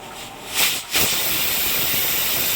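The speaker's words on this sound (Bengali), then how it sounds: "প্রেসারে সিটি উঠতে শুরু করে দিয়েছে" A pressure cooker boiling taro releases steam through its whistle in a loud, close hiss that swells briefly, dips, then holds steady and continuous.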